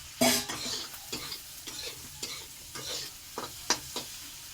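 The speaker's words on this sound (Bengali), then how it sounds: "ভালো করে ভেজে নেব স্বাদ মতন নুন আর হলুদ দিয়ে দেওয়া হলো" Shrimp and taro stems frying in hot oil with salt and turmeric, a steady close sizzle broken by repeated scraping stirs of a spatula against the pan.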